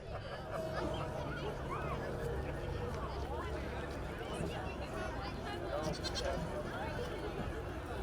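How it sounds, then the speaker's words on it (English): Pygmy goats bleat repeatedly at a holiday parade in Laguna Niguel, their wavering calls rising over steady crowd babble and street noise throughout. "Those are some cute goats."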